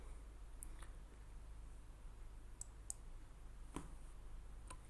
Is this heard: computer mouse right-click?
yes